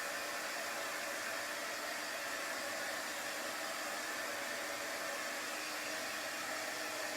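A heat gun blows hot air onto fabric while inking a jacket, a steady, even rushing hiss that runs unbroken throughout and sits fairly faint in the background.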